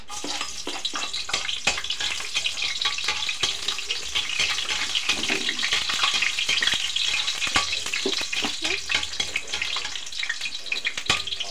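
Garlic frying in a hot pan for octopus adobo, a steady dense sizzle filling the whole stretch with scattered sharp crackles and occasional stirring clinks, fairly loud and close with no talking.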